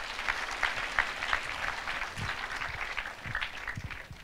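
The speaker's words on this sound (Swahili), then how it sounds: "Hebu jipigieni makofi." A Catholic church congregation applauds, sustained clapping from many hands in an indoor space, moderately loud and even, with no speech over it.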